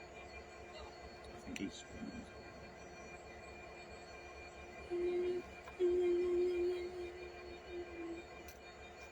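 Freight train passing at Tonbridge, a low rumbling roll with steady rail noise and drawn-out, high wheel squeals rising partway through, fairly distant, with someone talking quietly nearby.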